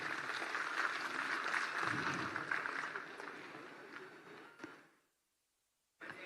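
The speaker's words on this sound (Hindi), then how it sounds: "तालियां आप सबकी तरफ से जरूर हों।" Audience applause at a state-level legal services camp, a broad steady wash of clapping that fades out into silence before a brief return at the end.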